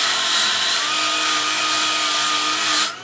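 A JOOLTOOL rotary wheel polishes a flat copper metal clay piece, producing a loud, steady whirring grind with a continuous high hiss that holds evenly for nearly three seconds, then cuts off abruptly.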